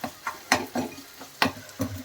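Cooked eggplant mashed in a pan with a masher, heard as a series of about eight soft squelching thuds in an uneven rhythm, close and moderately loud.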